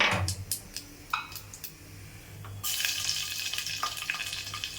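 Cumin seeds and crushed garlic dropped into hot oil in a pan: a few light clinks and taps, then a sudden bright sizzle that keeps crackling until the end.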